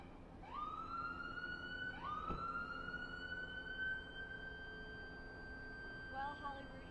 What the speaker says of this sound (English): Hollywood, you can hear the siren behind us.